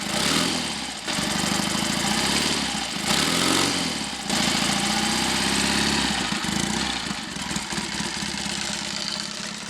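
A Triumph/Royal Enfield Trifield 500 trials motorcycle with an open carburettor runs close and loud, its single engine thumping in a rough, uneven idle with brief revs and dips throughout and no voices.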